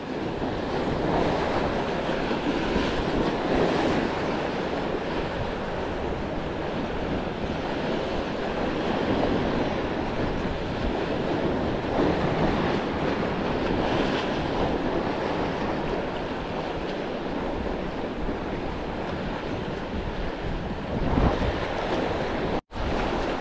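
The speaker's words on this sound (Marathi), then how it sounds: "वारा खूप जास्त आहे" Strong wind roars steadily across a microphone at the shore during evening fishing, with surf rumbling beneath, loud and continuous, with a brief dropout near the end.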